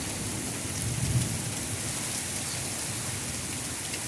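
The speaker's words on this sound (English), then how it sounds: "So it's only pea-sized hail at this point." Pea-sized hail and heavy rain fall steadily during a spring thunderstorm in the Texas Hill Country, a dense continuous hiss and patter with low rumbling underneath.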